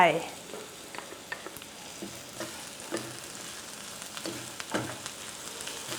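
Sliced shallots and fingerroot stir-fry in a little vegetable oil in a pan, a soft sizzle under faint scraping strokes from the spatula, quiet and close.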